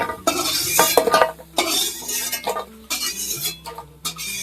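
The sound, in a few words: metal spatula scraping a wok while stirring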